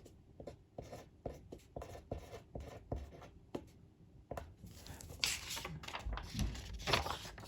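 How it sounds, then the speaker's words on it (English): Pen or pencil writing a word on a sheet of paper, with short scratchy strokes in quick bursts and brief pauses, close up and fairly quiet, growing busier and denser toward the end. "Let me write that root word down on a piece of paper"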